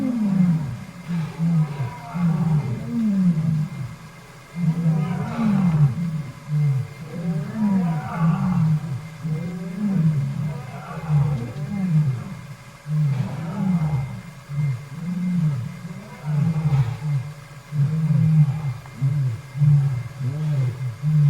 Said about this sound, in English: I did turn the camera on so that you could hear the lion